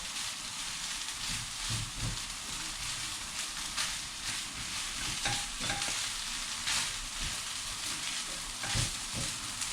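Fried rice with Chinese sausage, egg, carrot and corn is stir-fried in a pan at home. A steady hiss of frying runs the whole time, broken by scraping spatula strokes.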